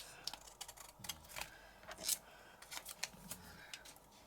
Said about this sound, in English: I'm going to trim those pieces off